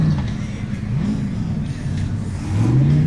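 A 700-horsepower Formula Offroad unlimited-class vehicle at an event in Akureyri, Iceland, revs its engine in a steady, loud, low roar that rises and falls, with pitch sweeps and a final climb near the end.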